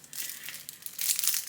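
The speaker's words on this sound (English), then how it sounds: "Let me take these out of the packet." Small scissors are pulled from a plastic packet, giving close crinkling and rustling bursts that grow louder near the end.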